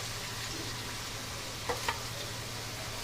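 Garlic and onion paste fries in oil for a hilsa fish dish, a steady soft hiss with two brief scraping stirs near the middle.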